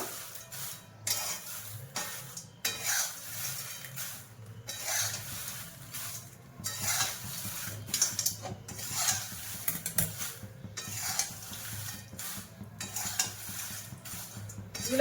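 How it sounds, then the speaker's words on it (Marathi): Red chillies dry-roasting in a pan for a Maharashtrian masala blend, stirred constantly with a steady scraping rustle and repeated bursts of stirring strokes, close and moderately loud with no talking. "मिरचीला पण सतत हलवत राहायचं सारखं."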